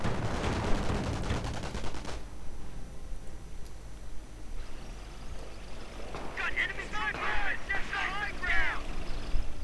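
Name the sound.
gunfire from snipers in the video game Company of Heroes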